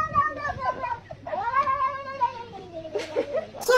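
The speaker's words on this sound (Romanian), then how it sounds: "Ce spunea pisica?" A cat in a meme clip gives repeated drawn-out, wavering meows and yowls, loud and close, one after another with short gaps.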